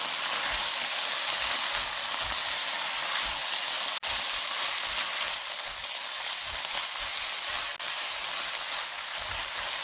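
Eggplant stir-frying in a pan with water added, a steady close hiss and sizzle with soft irregular low knocks of stirring throughout, no talking.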